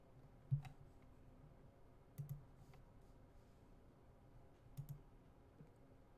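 Mouse clicks while selecting data elements in a data dictionary program, a few faint, sparse clicks, some in quick pairs, over a quiet low hum with no talking.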